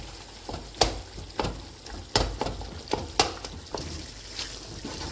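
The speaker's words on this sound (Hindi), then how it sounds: "इन्हें हम इस तरह साइड पे करके मैश करेंगे" Peeled tomatoes are pressed and mashed in a sizzling karahi pan for mutton karahi. About ten sharp, evenly spaced scraping knocks sound over a steady frying hiss, close by.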